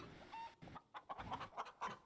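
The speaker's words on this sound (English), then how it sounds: "I hear a faint cluck." Chicken clucking in the Star Stable video game, a series of short, bright clucks spaced irregularly over a quiet background, fairly soft and heard alone without talk.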